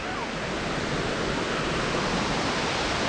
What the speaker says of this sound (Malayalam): അടിപൊളി വെള്ളച്ചാട്ടം.